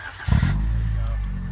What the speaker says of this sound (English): let me hit that remote start real quick